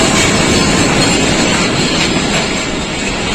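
A Pakistan Railways locomotive hauling the Shah Hussain Express at speed gives a loud, steady, broadband rumble and roar that holds without a break throughout.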